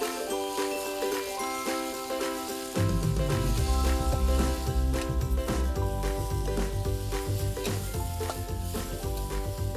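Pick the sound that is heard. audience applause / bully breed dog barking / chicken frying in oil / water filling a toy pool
chicken frying in oil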